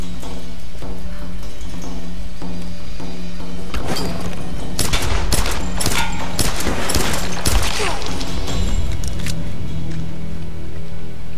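Gunfire in Tomb Raider, a quieter stretch of ambience giving way to a burst of rapid, close shots and impacts in the middle, then easing back into background noise.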